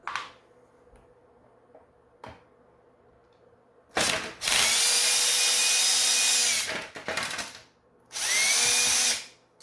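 A power drill backs screws out of an Elite Turbo bike trainer during a bearing replacement, two loud sustained whirring bursts with rising pitch after quieter handling clicks, close up and with no talk.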